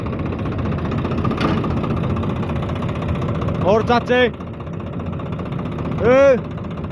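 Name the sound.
tractor engine idling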